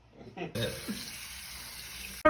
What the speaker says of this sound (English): So now we go to the bathroom and get some water.